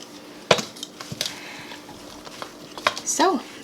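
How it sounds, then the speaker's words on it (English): Brussels sprout Caesar salad with Parmesan tossed in a bowl: scattered soft clinks, rustles and squishy thumps at close range, with a brief voice near the end. "I'm just going to sprinkle some in, and then I'm going to toss it again."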